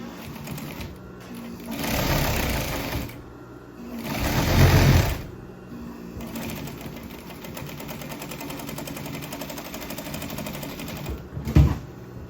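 A sewing machine stitches a seam on a Christmas stocking, running in several steady mechanical bursts with short pauses between them, close and fairly quiet, with no talking.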